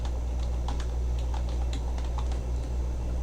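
Quick bursts of light keystrokes on a computer keyboard, irregular clicks clustered together, close but soft over a steady low electrical hum, with no voices.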